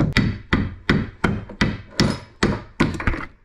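Eight sharp, evenly spaced hammer taps knocking a rubber bushing out of an Audi TT part, each ringing briefly before the next, with no talking.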